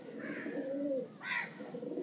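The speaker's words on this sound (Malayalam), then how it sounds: "നേരത്തെ നല്ല ഫാൻസി പ്രാവെല്ലാം ഉണ്ട് നമ്മളെ." Fancy pigeons coo close by, soft low throaty calls in a steady sequence followed by a brighter, higher coo near the end, over quiet background.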